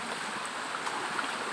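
A strong spring stream flows in a dense, steady rush of water, loud and close with no pauses or other sounds.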